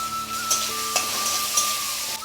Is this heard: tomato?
yes